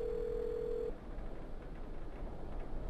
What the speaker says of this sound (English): Let's see if we can call them.